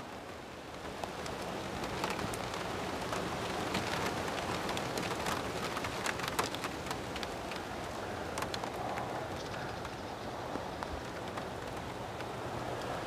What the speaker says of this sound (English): Can you see all the rain on the water?